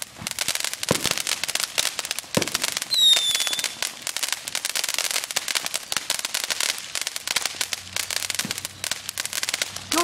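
Consumer fireworks set off at a Fourth of July backyard show, a steady barrage of crackling pops with a brief rising whistle-squeal near three seconds, loud and continuous throughout.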